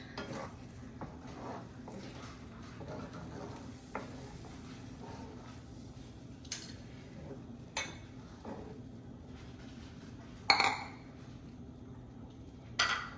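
Shahi paneer gravy with leftover cashew and cinnamon bits pressed through a sieve, a soft continuous scraping and stirring with a few sharp metallic clinks near the end.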